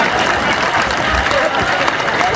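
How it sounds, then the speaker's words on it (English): Clapping from the audience at an international Christian–Muslim debate, a loud, dense burst of many hands that fills the whole short stretch with crowd noise. "Now clap for Moses"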